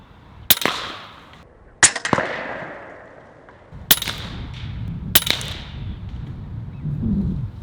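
Four sharp, loud cracks from a 30 caliber Western Sidewinder fired at soda cans on a range, spaced a second or more apart, each with a brief ringing tail and faint rumble between shots.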